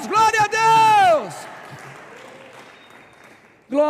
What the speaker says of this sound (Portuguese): Aleluia, aplauda forte ao Senhor.